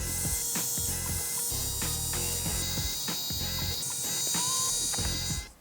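An electric beard trimmer shapes the contours of a beard during a home trim, giving a close, continuous buzzing hum broken by rapid rasping and clicking cuts that keep a fairly steady rhythm before stopping abruptly.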